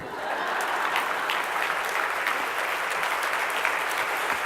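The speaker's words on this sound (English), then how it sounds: "That was worthy of a clap." Audience at an annual luncheon bursts into steady, dense applause that fills the room evenly for several seconds, with no talk on top.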